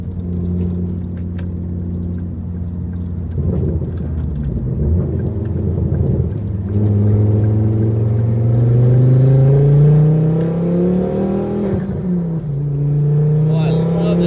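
Street-driven front-wheel-drive WRC tribute rally car, its engine revving up and down loudly from inside the cabin with rising and falling tones and bursts of exhaust noise, while occupants talk over it.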